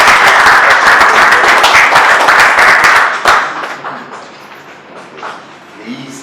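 Audience applause at an African award and conferment ceremony, loud dense clapping for about three seconds that then drops off sharply to quieter room sound.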